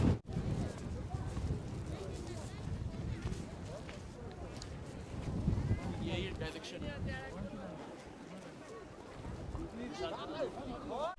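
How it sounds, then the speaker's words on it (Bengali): Strong wind roars and buffets continuously at close range by Pangong Lake in Ladakh, a high-altitude saltwater lake, with voices speaking faintly underneath the gusts. "এখানে কিন্তু প্রচণ্ড হাওয়া"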